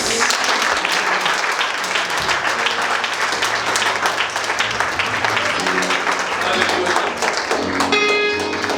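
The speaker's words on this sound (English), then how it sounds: "Let's clap our hand for Jesus" A church congregation clapping for Jesus: sustained, energetic handclaps from many people under a bed of music and voices, loud and continuous, with a held tone surfacing near the end.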